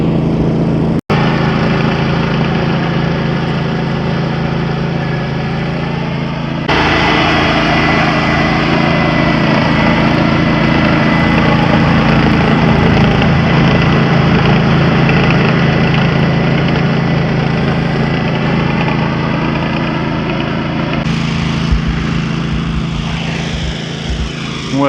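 A turf machine softening the surface of a golf course runs as a steady, loud engine drone that changes pitch slightly partway through and holds for the whole stretch, with no talk over it.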